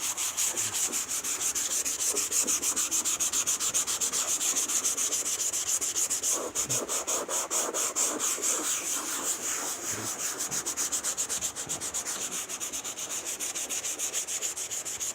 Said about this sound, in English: I'm wet sanding with 240 grit.